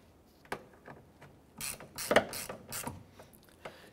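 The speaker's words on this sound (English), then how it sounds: "I'm going to go ahead and snug those down." Ratchet wrench snugging down the mirror mounting nuts on a 2006-2013 Chevrolet Impala front door, a few short bursts of quick clicking, close and moderately loud, with no talking.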